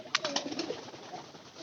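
Pigeons coo inside a pigeon house, soft, close throaty calls with a few wing flutters at the start, and no voices.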